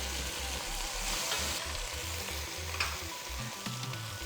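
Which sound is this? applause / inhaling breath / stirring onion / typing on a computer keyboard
stirring onion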